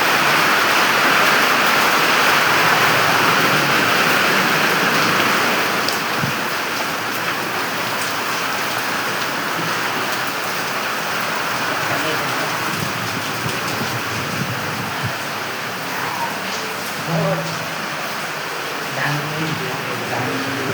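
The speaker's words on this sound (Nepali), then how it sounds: "यत्रो ठुलो पानी परिरहेको छ" Heavy rain pours down in a steady, dense hiss that fills the whole stretch, louder at first and then holding at a constant roar.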